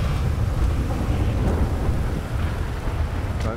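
A severe thunderstorm with rain in a GTA roleplay game, steady heavy downpour hissing over a low rolling thunder rumble, loud and continuous without voices.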